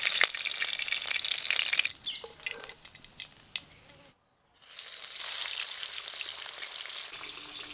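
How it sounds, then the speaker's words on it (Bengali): Large pomfret fish sizzling in hot oil in a pan, a bright crackle that fades into quieter pops and handling sounds, goes silent briefly, then swells back into a strong, steady fry. "এইভাবে বাকি মাছগুলো ভেজে নেব।"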